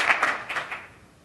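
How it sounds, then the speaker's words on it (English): Faint, brief applause from a small group, a few quick claps that fade out after a second. "Give him a round of applause."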